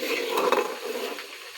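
Vegetables including brinjal sauté in oil for pav bhaji, a soft sizzle under scraping and stirring clinks of a spoon against the pan, close and brief.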